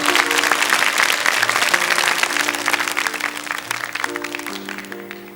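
A television studio audience claps loudly for a young singer, a thick wash of applause over soft sustained music tones, easing off toward the end.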